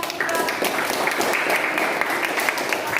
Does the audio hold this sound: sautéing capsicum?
no